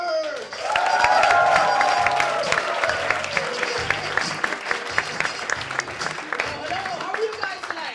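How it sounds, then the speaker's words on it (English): An audience at a comedy show applauds a comedian taking the stage, with a brief voice or cheer near the start, then steady, dense clapping that carries on to the end. "start with an enormous applause"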